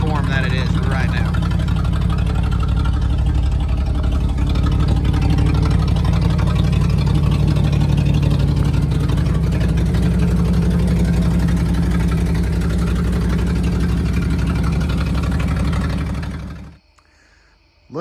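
Old 1969 GMC Suburban farm truck with its engine running steadily nearby, a loud, continuous low rumble that carries on for most of the clip before cutting off near the end, with a voice talking over it.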